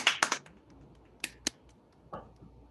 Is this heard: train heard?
no